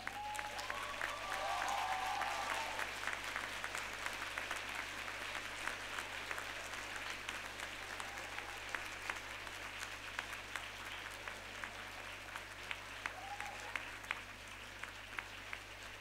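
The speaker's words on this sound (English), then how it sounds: "let's give them a round of applause, everyone" A standing graduation-ceremony audience gives a long round of applause for parents and loved ones: many hands clapping steadily in a large hall, with brief scattered voices and a low hum underneath.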